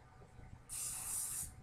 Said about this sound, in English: and spray it.